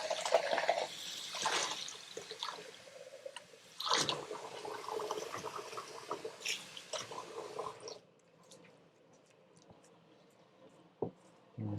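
Strawberry rhubarb jelly in a pot on the stove, giving soft wet squishing, bubbling and dripping sounds with occasional clicks, fairly quiet and close, easing into near stillness partway through with a few isolated wet pops.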